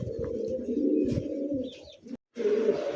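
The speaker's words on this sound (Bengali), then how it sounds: "খুবই সুন্দর একজোড়া হাইফার কবুতর" A pair of grizzle pigeons coo close by, soft throaty rolling calls repeating over a few seconds, broken by a brief silence before the cooing resumes.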